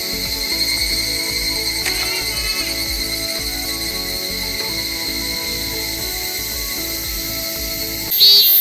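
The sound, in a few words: cicada buzzing in treetops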